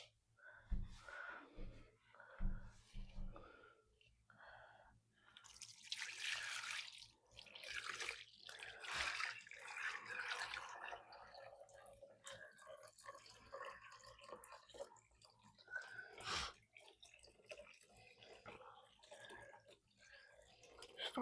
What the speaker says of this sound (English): I'm going to pour the liquid that's left into the bowl